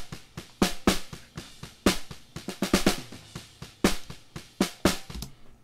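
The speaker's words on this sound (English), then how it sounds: "snare bottom sounds like this." A snare drum heard from underneath, bright rattling hits with a buzzy, hissy snap, played in an uneven pattern with soft thuds between, fairly quiet overall.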